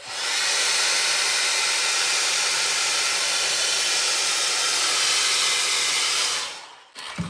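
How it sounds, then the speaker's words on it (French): A hair dryer blows loudly and steadily for several seconds to warm a decal on a 1/24 scale BMW M8 GTE model kit, then switches off, leaving a brief quiet moment and a small click. "je mets un coup de sèche-cheveux"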